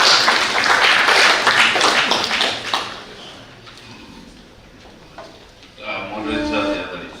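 Applause from an audience at a plenary session of the GAC 2025 assembly, a dense, loud wash of clapping for the first few seconds that fades under a murmuring room before voices rise again.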